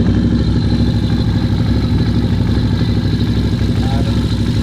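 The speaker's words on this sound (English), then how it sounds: "gonna go idle it up and you're gonna see the clutch engage" Can-Am engine idling up with the clutch engaging after a clutch change and Dalton kit upgrade, a steady close mechanical drone with clattering texture throughout.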